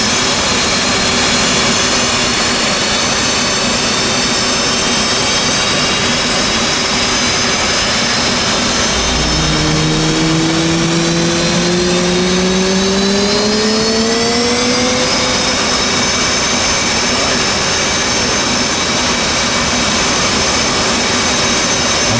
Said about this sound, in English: move the left throttle from off to idle by pressing right alt home. This will add fuel to the engine and start the ignition.